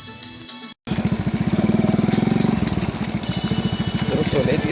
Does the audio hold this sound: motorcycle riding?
yes